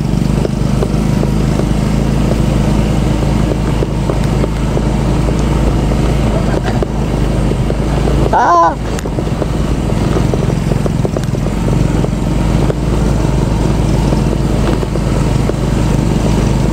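A motorcycle engine drones steadily on a rough, badly damaged road in San Nicolas, Batangas, with rumbling, rattling road noise throughout, plus a brief jolt midway and faint voices in the background.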